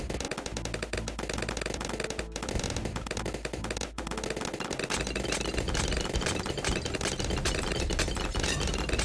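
Rapid, unbroken rattling bursts of cluster bomb explosions in a tower defense game, loud and machine-gun-like with brief dropouts, crackling on throughout.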